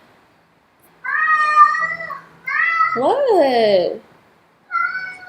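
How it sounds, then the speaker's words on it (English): A pet cat meows loudly and close by, letting out three drawn-out, insistent cries with pauses between them; a person briefly speaks between the meows. "My cat's yelling at me"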